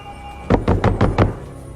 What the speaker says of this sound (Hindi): दरवाजा खोलो पीटर, मैं तुम्हारी मदद कर सकता हूँ।